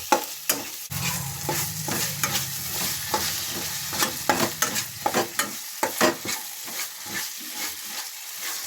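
Ginger being roasted in ghee on a low flame while a spoon stirs it, with repeated scraping strokes over a soft sizzle, close and fairly quiet, no talking.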